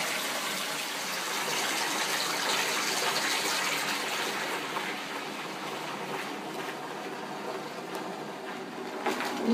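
Bathtub filling from a running tap for a bubble bath, a steady loud gush of water pouring continuously, close and alone.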